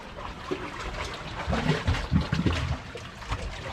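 Seawater rushes out from under a rock on the Angus coast in Scotland, a gurgling, splashing surge that swells to a peak midway and then eases off. It is moderately loud and close, with no talk.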